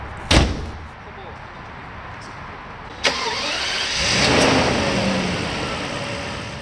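A Mercedes-Benz W140 S600 with a 6.0L V12 pulls away smoothly, its engine a quiet low hum under broadband road and cabin noise, with two sharp door-like thumps.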